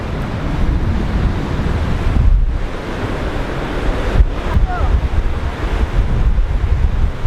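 Ocean surf rolling in steadily as the tide comes in along a coast near a hidden waterfall, with continuous loud wash of waves and heavy wind buffeting the microphone throughout.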